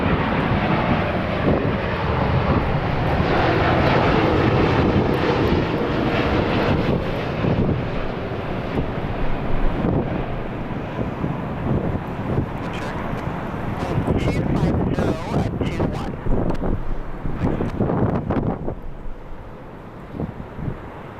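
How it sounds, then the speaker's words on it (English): Airbus A330neo airliner touching down at LAX, a steady broadband roar of engines and rushing air held loud across the whole stretch, with wind buffeting the microphone and speech-like activity mixed in. "touchdown by the A330neo"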